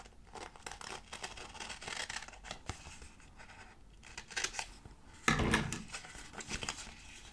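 Scissors snip through planner stickers, several close, quiet cuts with paper rustling and crinkling between them, ending in a louder crisp cut and handling of paper, no talking.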